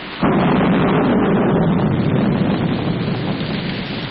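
A heavy storm roars in as a sudden loud, broad rumble of thunder and rain that sets in sharply and holds steady, slowly easing off near the end, with no voices present.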